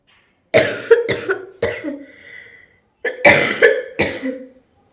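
Two close bouts of harsh coughing, three or four coughs each, separated by a short silent pause.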